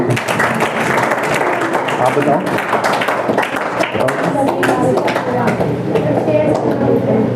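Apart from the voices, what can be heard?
students clapping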